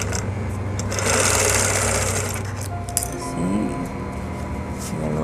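A sewing machine stitches a sponge lining into a lace party bag, a close, steady mechanical whir with a slight clatter that runs without a break.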